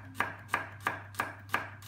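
A kitchen knife finely chops garlic on a board, six crisp even taps at a quick steady rhythm, close and fairly quiet, with no voices.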